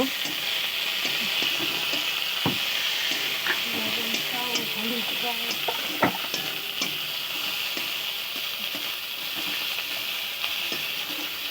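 Tomatoes sizzle and fry in hot oil with spices for a fish curry, a steady close crackling hiss broken by sharp clicks of a spatula stirring the pan.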